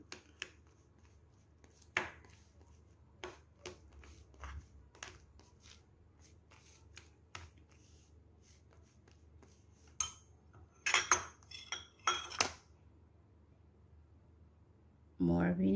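Sushi rice being mixed with dissolved sugar and vinegar, heard as sparse clicks and scrapes of a utensil against a bowl, with bursts of clattering and a louder knock at the end in a quiet room.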